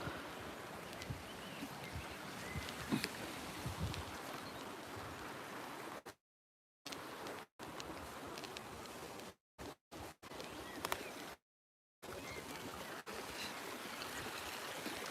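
A stream flows beside an orchard with cherry and pear trees, a steady faint rushing and babbling, interrupted by several brief dropouts to silence.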